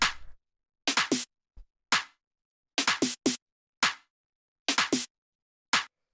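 A three-layer percussion loop from a deep minimal house track repeats sharp clacks and slaps in a syncopated groove, with clusters of quick hits and gaps of silence between them.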